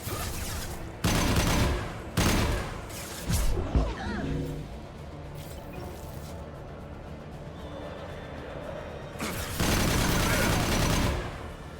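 Bursts of gunfire in the Mass Effect Legendary Edition 2 video game, loud volleys in short clusters separated by quieter combat noise, with a continuous backdrop of battle sound.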